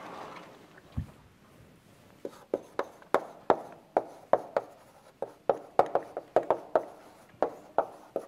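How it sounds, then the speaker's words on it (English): Marker or chalk writing on a board during an economics lecture, a series of sharp irregular taps and short strokes, close and fairly clear against a quiet room with no talk. "Let me write that down. Write it down over here."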